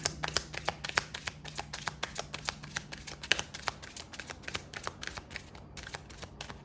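Tarot cards are riffled and shuffled close by, a fast run of crisp flicking snaps that continues steadily with a few short breaks.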